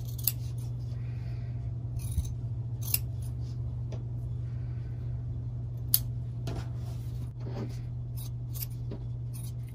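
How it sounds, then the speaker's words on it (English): Sharp scissors cutting through fabric and cotton batting close by, a series of crisp snipping bursts at irregular intervals over a steady low hum. "If you have nice sharp scissors that cut all the way to the tip, it should go pretty quickly."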